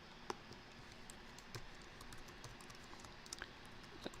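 Quiet typing on a computer keyboard, a loose run of soft key taps with a few sharper clicks, close but low in level.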